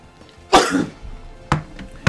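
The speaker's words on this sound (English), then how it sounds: "Shocked me so much I sneezed, apparently." A sharp, sudden sneeze from someone taken by surprise during a simple tournament stream, close and loud, followed a second later by a shorter second burst.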